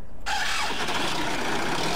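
An old-style tractor engine starting in a Farming Simulator 15 mod: a quiet moment, then the starter catches and the engine roars into a steady, loud, rough running drone close by, with no talking.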